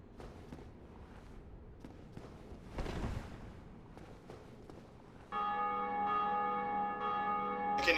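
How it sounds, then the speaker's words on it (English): A bell rings in Dark Souls Remastered: after quiet footsteps and ambient shuffling, a resonant church-style bell tolls in with a sustained, harmonically rich ring that holds to the end, moderately loud. "I can hear that bell ringing."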